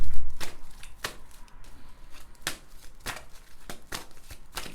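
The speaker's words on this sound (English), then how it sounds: "now I'm going to shuffle these cards" A deck of tarot cards is shuffled by hand up close, giving sharp riffling slaps and flutters at uneven intervals over a soft rustle, with no talking.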